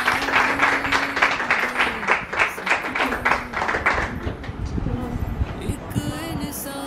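A church congregation at a Father's Day service claps together, a steady dense patter of applause under a voice calling out over it, tapering off toward the end.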